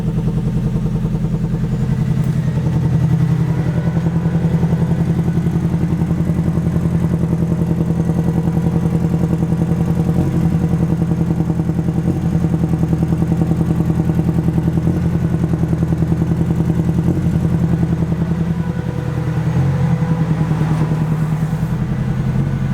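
Engine of a vehicle called the Dragon idling steadily just after starting, a loud continuous low rumble with faint clattering throughout, the air conditioning switched on.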